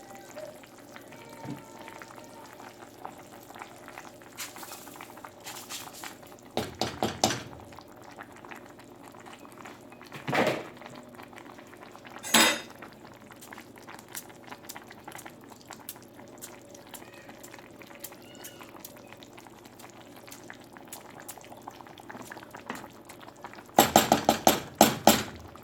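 Water and rice for plov simmer in a pot, a faint, continuous low bubbling broken by a few sharper pops and crackles, with a louder cluster of splutters near the end.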